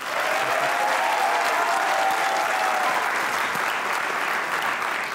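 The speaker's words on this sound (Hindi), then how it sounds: "तालियां बजाइए।" A studio audience at a comedy talk show breaks into loud, sustained applause, a thick, even roar of clapping that holds steady from start to finish and eases slightly at the end.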